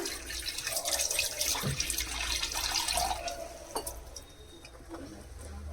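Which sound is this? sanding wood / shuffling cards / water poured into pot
water poured into pot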